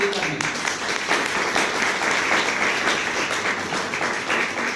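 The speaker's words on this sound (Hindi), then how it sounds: "एक बार ताली बजाइए।" Audience in a Hindi-language talk or lecture hall clapping together, a dense, steady round of applause lasting several seconds with fairly loud, continuous hand claps.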